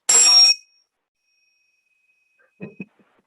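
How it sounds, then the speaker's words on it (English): A single bright bell ding rings out sharply and lingers faintly, followed by a couple of soft taps after a quiet pause. "I'm still trying to see if you can hear the bell when I ring it."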